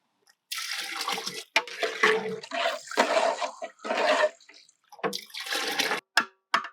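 Water poured by hand onto ponni rice in a large pot for a village-style vegetable dum biryani, splashing in several loud bursts with short gaps between them, heard up close.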